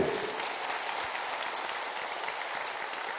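A concert audience applauds a Silesian singer's performance, with steady, dense clapping from many hands filling the whole stretch at moderate loudness and no voices over it.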